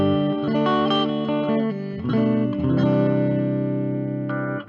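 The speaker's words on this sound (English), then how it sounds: "This is the sound of the Baroni-Lab Mini Amp 50 in the clean channel." Clean electric guitar chords and single notes through a Baroni-Lab Mini Amp 50 clean channel, using bridge and neck pickups, ring out with sustained, smooth tone and a touch of reverb, played alone.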